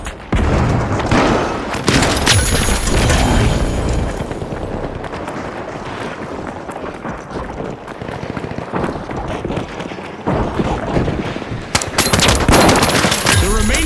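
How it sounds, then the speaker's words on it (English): A frag grenade goes off during a video game finals match, amid loud, dense combat with rapid gunfire bursts and heavy booms. Short gaps fall between the flurries, and voices are heard among the noise. "Frag grenade out!"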